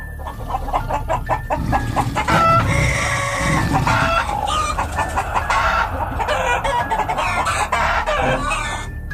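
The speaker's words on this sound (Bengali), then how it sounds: "মুরগিগুলো এরম ভাবে ডাকছে কেন" A shed full of chickens clucks loudly and close at night. The dense, agitated squawks overlap continuously, with rooster-like calls rising through the flock.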